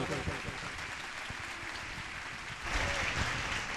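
At an outdoor church convention, a crowd applauds to welcome a preacher, a steady wash of clapping that swells slightly toward the end, with voices audible underneath.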